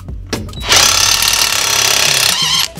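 A Parkside PASSK 20-Li A1 cordless impact wrench unscrews a bolt at 100 Nm, with a loud rapid hammering rattle that runs for about two seconds close up, then stops abruptly.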